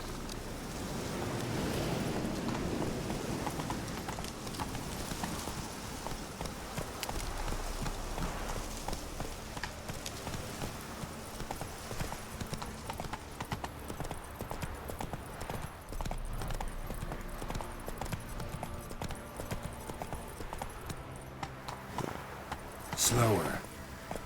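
Roach, a horse in the video game The Witcher 3, running with steady, rapid hoofbeats that continue for the whole stretch over a soft rain-like hiss, while voices speak now and then.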